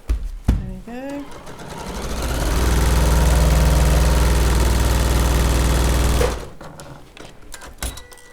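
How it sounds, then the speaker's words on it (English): A domestic sewing machine stitches long strips of plain fabric for a cathedral window Christmas quilting project, whirring steadily for about four seconds after brief handling noises, then stopping, with a short voice and clicks around it. "I'm just going to carry on sewing"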